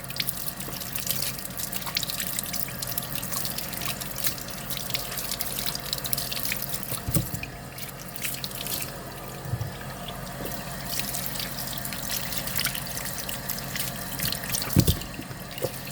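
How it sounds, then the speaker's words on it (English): Tap water runs steadily into a sink while bananas are rinsed under it, a continuous close splashing stream with occasional small knocks and drips, and no talking. "So, wash them off, and they will last longer."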